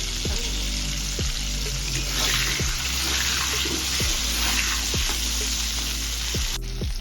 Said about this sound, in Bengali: হলুদ দিয়ে আলুটা ভেজে নেব